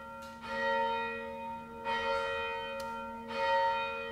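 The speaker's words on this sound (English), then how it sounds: "we'll turn the bell on just for a second to make them think that they're supposed to be out" The bell stop on a C.B. Fisk Opus 145 pipe organ rings out in repeated, sustained bell-like tones with a few strikes that decay slowly, loud and close with no talking.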